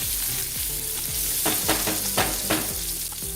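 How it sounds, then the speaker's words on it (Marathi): Two hot green chillies fry in a pan, sizzling steadily while a spoon stirs and scrapes the pan in a quick, repeated rhythm, close and loud. "आता यात मी 2 हिरव्या मिरच्या घातल्यात"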